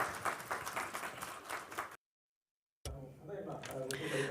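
Audience applause as a speaker from Sumitomo Mitsui Card is welcomed to a podium, a dense patter of clapping that cuts to silence for a moment, then resumes with a voice and room noise mixed in.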